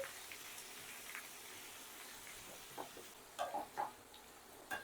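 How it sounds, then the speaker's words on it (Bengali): Raw papaya stirred and fried in ghee, a faint, even sizzle with soft spoon scrapes and a few light stirring knocks toward the end, heard alone without speech. "এবার ভালো করে একটু মিশিয়ে নেব, নিয়ে একটু ভাজা ভাজা করে নিতে হবে।"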